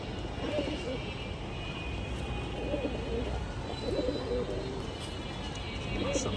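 Moyna jhak and Musaldom pigeons coo in low rolling calls against a constant hum and a faint distant aircraft drone, moderately quiet and continuous.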